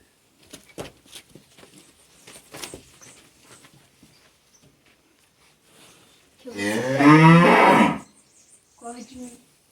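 On a farm, a cow lets out one loud, close, drawn-out moo of about a second and a half, then a shorter call follows, with scattered footsteps and soft knocks before it and someone talking nearby.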